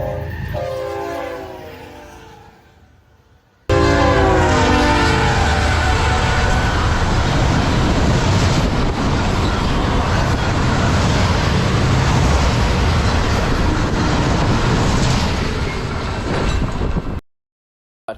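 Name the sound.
eastbound Autorack freight train passing at 70 mph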